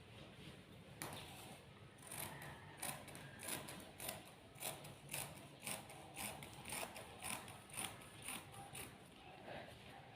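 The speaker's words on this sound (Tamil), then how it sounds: "இப்போ இதே உங்களுக்கு கட் பண்ணிவிட்டு காட்டுறேன்." Scissors snip through a paper pattern laid over fabric for a girl's pattu pavadai and blouse, a steady run of crisp, close cuts repeating about twice a second with no talking.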